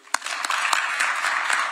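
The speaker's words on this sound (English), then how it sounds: "And a clap would be good." Audience applause at a letter-of-intent signing ceremony between Nairobi City County and Kuala Lumpur City Hall, a short, steady patter of many hands clapping, moderately loud and unbroken.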